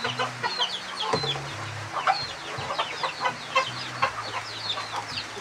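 A chicken clucking repeatedly in short, choppy calls over a low, steady tonal background, with no talking.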